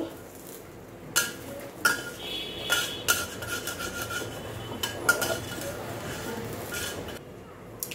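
Cumin, coriander and turmeric powder being mixed in a bowl, with a scattering of light clinks and scraping strokes at irregular intervals against a quiet room background.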